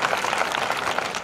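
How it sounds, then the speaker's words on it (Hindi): Audience in a hall clapping for an overall topper of the ICAR 2022 exam, a steady dense patter of many hands at moderate loudness, continuous with no gaps or voices. "जोरदार ताली बजाओ इस बच्चे के लिए"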